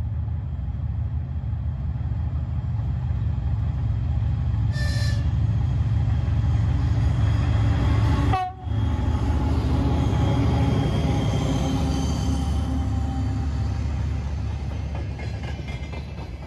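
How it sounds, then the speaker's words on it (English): A Soviet TE-10 diesel locomotive runs with its turbocharged engine, burning oil from the turbine, in a loud, steady, close low rumble and drone that lasts throughout, broken by a brief sharp clank midway and a short higher whine earlier. "is the same Soviet diesel locomotive TE-10 as in the first two videos"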